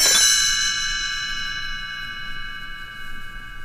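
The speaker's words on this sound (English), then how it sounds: "You will know it is time to turn the page when Tinker Bell rings her little bells like this." Little bells rung as a storybook page-turn signal, Tinker Bell's chime: a single bright shimmering strike that rings out and slowly decays over a few seconds, clear and alone.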